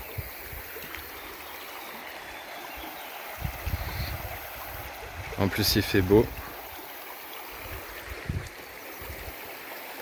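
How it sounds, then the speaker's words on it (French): A river flowing along a riverside camp spot in France, a soft steady wash of water throughout, with someone speaking briefly in the middle over it. "Et c'est en bord de rivière."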